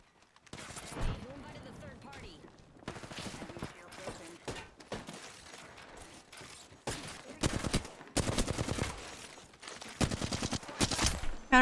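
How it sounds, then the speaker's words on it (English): Rapid gunfire from the video game Apex Legends rattles in repeated bursts and volleys across the whole stretch, loud and close, with a voice speaking between shots. "Who is shooting at me?"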